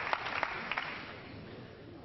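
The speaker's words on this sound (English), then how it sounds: "Crowd cheering on this Davis comeback." Audience applause at a nine-ball pool championship, a brief burst of scattered claps that fades into a softer, continuing crowd wash.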